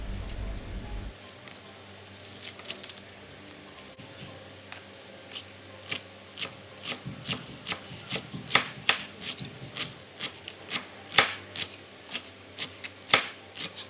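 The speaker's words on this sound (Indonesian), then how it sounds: "Tiga batang daun bawang, 3 batang daun seledri diiris-iris." Knife slicing spring onions and celery on a cutting board, a run of crisp, quick chops that start sparse and grow into a steady rhythm, close and fairly quiet, with no talking.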